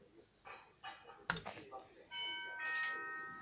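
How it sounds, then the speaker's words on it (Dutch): A doorbell chime rings indoors in a home, a clear ringing tone that holds for over a second after some brief clattering and soft voices. "er belt iemand aan de bel"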